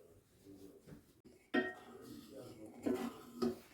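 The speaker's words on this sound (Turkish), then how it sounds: "Ve şimdi de bir tane kaşık alacağım ve karıştıracağım." A spoon clinks against a pot while pudding is stirred, with several soft metallic knocks and scrapes close by amid quiet kitchen sounds.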